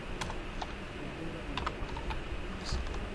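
Computer keyboard typing as code is entered, a steady run of soft, close key clicks with a few sharper taps, no talking.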